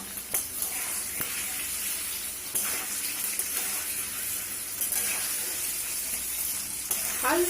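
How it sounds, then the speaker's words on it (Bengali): Paneer cubes fry in hot oil, giving a steady, fairly quiet sizzle that runs throughout with a few brief stirring clicks and no talking. "পনিরগুলো হালকা করে ভাজা আমার হয়ে গেছে"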